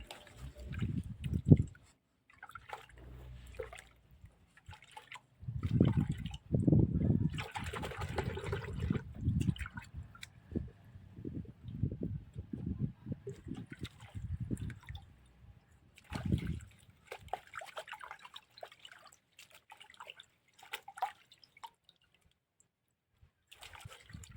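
Calla lily tubers being washed by hand in water, with splashing, gurgling and trickling bursts that come and go at close range over about 24 seconds, with quiet pauses in between.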